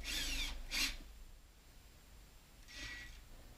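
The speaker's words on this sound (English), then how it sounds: "Now we can drill our holes for our carriage bolts to sit in." Power drill boring holes through a bookshelf board for carriage bolts, heard as two close, loud bursts of drilling in quick succession, a pause, then a third longer burst.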